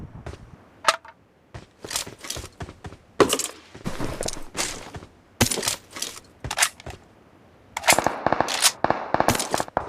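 Gunfire from a battle-royale style mobile video game, with bursts of rapid automatic shots and single cracks scattered across the clip, loud and sharp against a quiet background.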